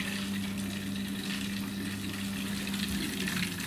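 Continuous gurgling and bubbling of air in heating water pipes in a private house, steady and moderately loud, with a low hum underneath and no voices.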